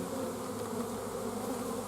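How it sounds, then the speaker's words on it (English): Honeybees buzz in a dense, steady drone while a nuc is being installed and tightly loaded frames are moved, a close, continuous hum with no voices over it. "I may wind up losing some bees here"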